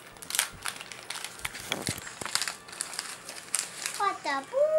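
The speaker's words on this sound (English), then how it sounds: "Trying to get the tape out." Tape is pulled off gift wrapping on a present box, giving close crinkling and crackling paper bursts, with a voice and other talk around it.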